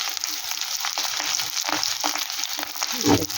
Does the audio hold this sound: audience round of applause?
no